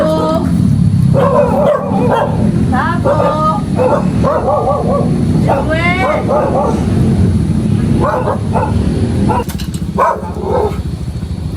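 A dog barks and yips in short repeated bursts over a loud, steady rumble of background noise, while people talk and call out nearby.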